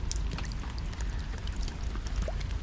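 Rainwater gushing from a house drain pipe at the back of a house onto a patio on a wet day, pooling below: a steady, close splashing pour with constant bubbling and gurgling, unbroken by speech.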